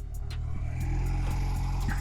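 A Honda Rebel 125 motorcycle engine idles in neutral, a steady low mechanical thrum that holds evenly throughout with faint higher ticks above it, close and moderately loud, with no one talking.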